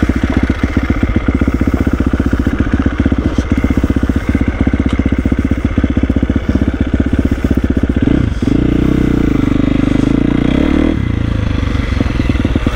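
Honda motocross bike engine on a dirt track, a loud continuous droning roar that holds steady at first, then dips and shifts pitch as the rider changes throttle near the end.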